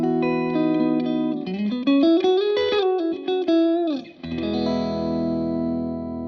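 An electric guitar plays a short melodic run through a Line 6 HX Stomp effects patch with distortion and chorus, ending on a sustained, ringing chord.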